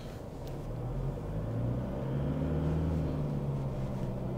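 Toyota Land Cruiser pulling away, a low engine hum and road rumble rising gently as it gets moving, heard from inside the cabin without speech.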